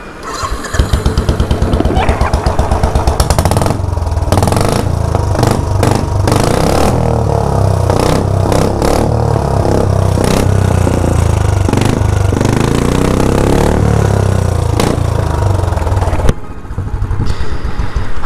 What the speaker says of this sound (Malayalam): ഇതാണ് വണ്ടിയിലെ എക്സോസ്റ്റ് ഇല്ലാത്ത സൗണ്ട് എന്ന് പറയുന്നത്.